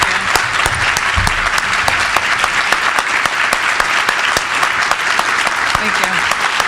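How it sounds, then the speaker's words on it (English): Loud, sustained applause from a crowd at a conference's closing session, steady clapping filling the whole stretch with a few faint voices underneath. "So, a huge round of applause for Kate."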